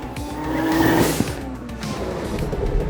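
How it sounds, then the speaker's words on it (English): A two-rotor-swapped Corvette Z06 brakes hard, its tires squealing in a sustained whine over engine noise for about a second, then settling into rolling road noise. "Now even this, getting to test my brakes,"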